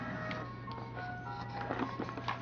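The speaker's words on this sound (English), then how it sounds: "I hear the ice cream truck outside." A jingle from an ice cream truck playing outside, faint and distant, its thin repeating melody heard over a low steady hum.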